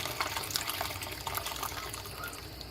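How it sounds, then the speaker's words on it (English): Water runs and splashes steadily into a big pot of smoked beef barley soup, a continuous close-up rushing pour with no talking. "Add in some more water, because this is going to simmer for a couple hours."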